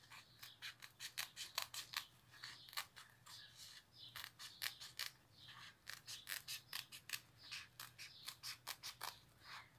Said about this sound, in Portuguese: vai cortando bem ao lado da fita